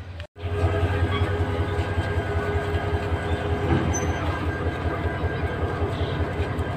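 Train standing at Bhairab Junction as a locomotive is coupled on, a low rumbling diesel engine drone with rhythmic mechanical pulsing and a faint high squeal, steady and close after a brief cut at the start.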